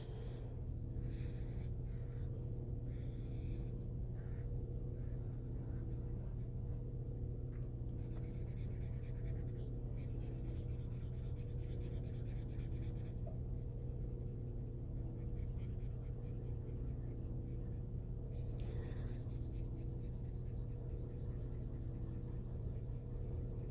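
Coloring on paper makes soft, scratchy strokes in repeated bursts separated by pauses. They sit over a faint steady hum and stay quiet and close.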